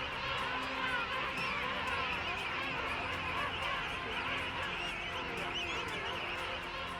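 A dense penguin colony on South Georgia honks, chirps and whistles all at once, a constant overlapping din at close range.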